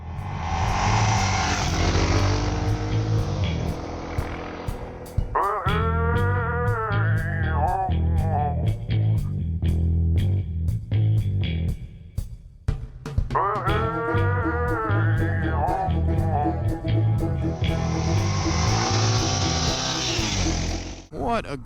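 A DR big bore dual sport motorcycle is ridden on a sunny day, its engine revving up and down through gear changes under heavy rushing wind noise, with quieter cruising stretches between the pulls.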